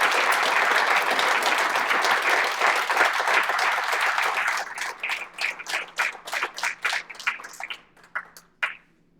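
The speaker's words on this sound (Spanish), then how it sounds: "Démosle, por favor, un fuerte y merecido aplauso." An audience at a university recognition ceremony for historian Dr. Víctor Orozco Orozco, Universidad Autónoma de Ciudad Juárez, breaks into loud, dense applause that thins after a few seconds into scattered, separate claps before dying out.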